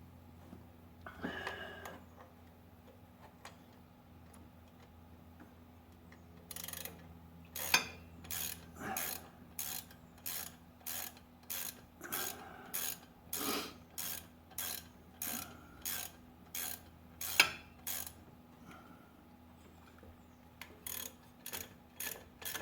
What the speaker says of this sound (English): Gotta get the bolt out.